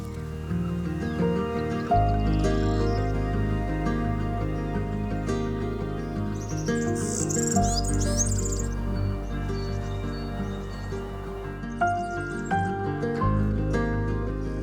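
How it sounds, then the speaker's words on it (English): Birds chirp outdoors in spring, with scattered high calls that are loudest midway through. They sit over a dense, steady layer of louder low, tonal sound that runs throughout. "birds galore chirping"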